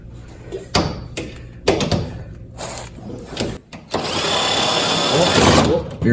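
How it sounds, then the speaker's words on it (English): An impact wrench drives wheel nuts home on a BMW dirt track car. Short sharp bursts and taps give way to a long, loud, sustained rattling hammer near the end. It sounds close, with people talking around it. "You got your impact wrench ready."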